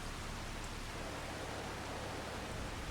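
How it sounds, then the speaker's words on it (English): Steady broadband rain hiss in Farming Simulator 25 on a farm during the August harvest, a dense even wash of falling rain with no clear individual drops, constant and fairly loud, with no speech. "while it's raining"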